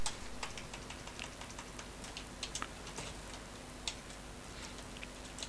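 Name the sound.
typing h1 heading code on computer keyboard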